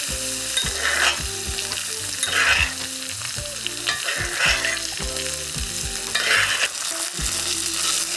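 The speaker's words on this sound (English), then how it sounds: "And then, just like any other steak, baste a little bit." Steak sizzling loudly in a pan as it is basted with butter and thyme, a dense continuous fry with rhythmic bursts of spooned fat splashing roughly every second or so.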